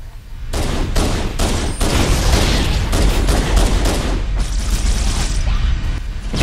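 Rapid bursts of enemy needler fire in the shooter game Halo CE Anniversary form a loud, dense volley of clattering shots and impacts that continues almost without a break.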